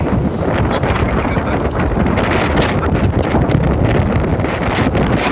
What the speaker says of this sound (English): It's fucking windy, dude.